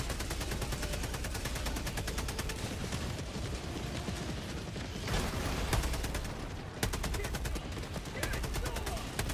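Rapid automatic gunfire in a multiplayer shooter video game rattles almost continuously in dense bursts, with brief pauses, loud and close, mixed with game effects and a voice talking over it.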